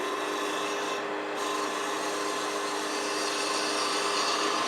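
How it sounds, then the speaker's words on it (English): A detail spindle gouge cuts a small wooden snowman ornament spinning on a lathe, producing a steady, close, unbroken rasping hiss with no pauses. "I'm going to use a detail spindle gouge, which is not milled as deep, a little bit pointier, a little bit sharper, about 30 degrees"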